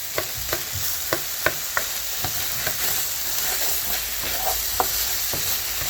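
Onion sizzles and fries in a pan of browned beef bits during deglazing, a steady loud crackle with repeated sharp clicks of a utensil stirring and scraping, no talking.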